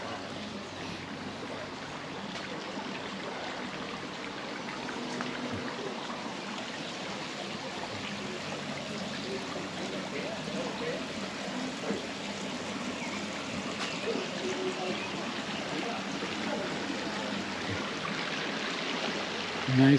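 Water from a pond is pumped back up into a private garden water feature in Central Wisconsin, trickling and splashing in a steady, even wash that runs unbroken the whole time.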